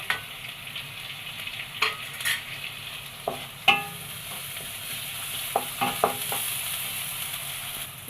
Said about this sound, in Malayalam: ഇതാ ആ ഫ്രൈ ചെയ്ത എണ്ണയിൽ സവാള ഇട്ട് കൊടുക്കാം ഇതാ ബാക്കിയുള്ള അരപ്പ് ഇതിലിട്ട് കൊടുക്കാം